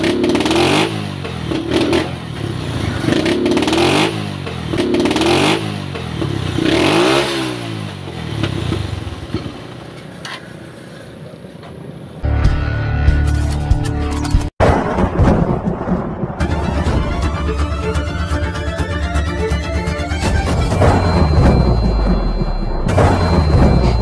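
A Suzuki Skygo motorcycle engine with a primary-side fault, running roughly with repeated popping misfires and backfires, then loud revving and clatter close by, with no talk.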